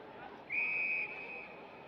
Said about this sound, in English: There's a whistle here.